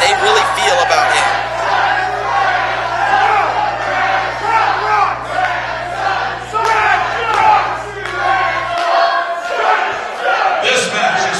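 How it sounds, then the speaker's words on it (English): A wrestling event crowd shouts and jeers loudly in a large hall, a dense roar of many voices swelling and dipping before cutting off abruptly near the end. "This crowd let Brad know how they really feel about him."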